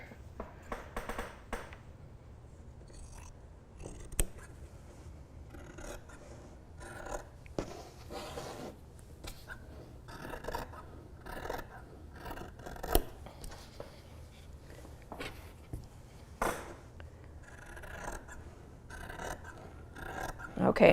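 Scissors snip through a doubled layer of t-shirt knit in short, irregular bursts of crisp crunching and rasping, spread across the clip with small pauses between cuts, close-up and moderately loud.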